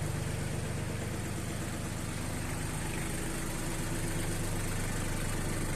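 A Mitsubishi MT241 4WD compact tractor engine idles steadily, a continuous low mechanical rumble with even vibration throughout and no talk.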